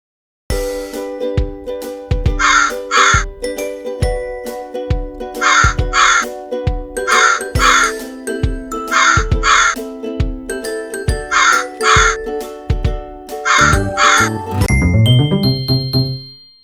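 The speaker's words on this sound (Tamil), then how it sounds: "காகம் கரையும்." Repeated pairs of crow caws sound in a regular rhythm, harsh and clear, over a bouncy tinkling musical backing.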